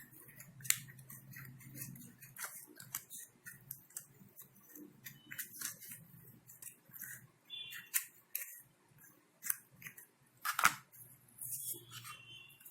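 Scissors snip through crochet yarn with a string of small, quick clicks and snips that are close but faint, over a quiet background and with no talking.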